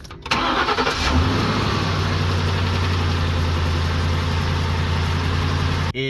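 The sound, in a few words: car engine starting with a Kepeak jump starter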